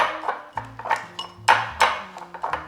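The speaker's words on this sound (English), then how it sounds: "I also have this pastry cutter though, which is really, really super convenient. So we're just gonna use that to cut in the butter" A metal pastry cutter chops cold butter into flour in a bowl, giving a quick uneven series of close clinks and dull knocks as the blades strike down again and again.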